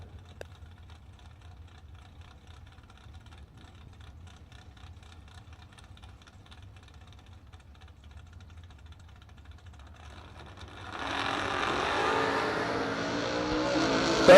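Drag racing cars, including a Roadster Corvette, at a drag strip: a low engine rumble at first, then a loud broadband roar surges in near the end as the cars launch and accelerate.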